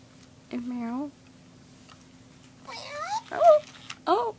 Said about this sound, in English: And meow.